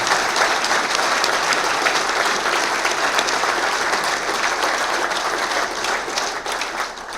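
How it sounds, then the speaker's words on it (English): Sustained audience applause for the staff at a golf association annual meeting, steady and dense clapping that holds for several seconds and eases slightly at the end. "please give a round of applause to the entire staff over in the corner over there."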